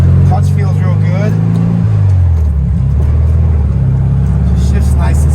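A 1970 Volkswagen Beetle engine drones steadily from inside the car on a test drive, its pitch dropping as the gear changes partway through, with someone talking over it.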